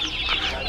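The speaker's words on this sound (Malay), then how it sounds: "Ada anak ayam." Chicks peeping in a high, steady chorus of tiny chirps, close and fairly loud, with no talking.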